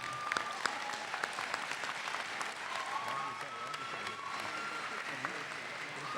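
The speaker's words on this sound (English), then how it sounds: "thank you for your round of applause" Steady applause from a crowd at a college graduation ceremony fills the space, a dense continuous clatter of many hands clapping at a moderate distance.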